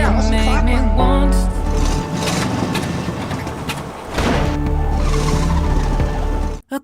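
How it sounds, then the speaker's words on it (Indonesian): A damaged Opel Calibra race car revs hard during a race, its loud, strained engine roaring up and down close by with tire squeal and skidding mixed in, then cutting off abruptly at the end. "mencoba untuk menggaspol mobil Opel Calibra yang rusak itu"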